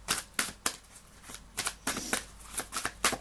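Oracle cards are dropped and shuffled, with about a dozen crisp slapping riffles in an irregular rhythm, close and fairly quiet.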